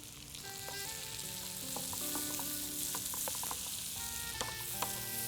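Garlic and onion frying in melted butter in a pan give a steady close sizzle with a few soft stirring clicks, over faint background music and no talk.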